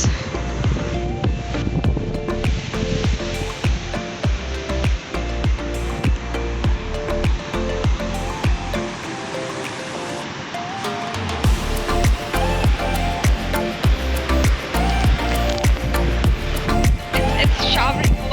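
The Lower Düden waterfall in Antalya pours into the sea with a loud, continuous roaring rush of falling water heard up close.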